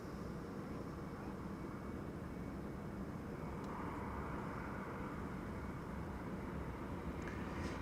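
A Transavia airliner on arrival from Preveza at Amsterdam Schiphol makes a steady, broad engine roar that holds at even loudness throughout, somewhat distant with no breaks.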